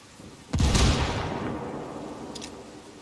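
A frag grenade detonates in a military shooter game during a heavy-ammunition crash-site mission, a single loud close blast with a rumbling tail that slowly fades, a faint metallic ping trailing afterward.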